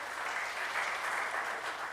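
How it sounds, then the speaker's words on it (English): Audience at a PNM political public meeting applauds in a steady, moderately faint wash of clapping that holds evenly throughout, with no speech over it. "I find all your clapping kind of dying"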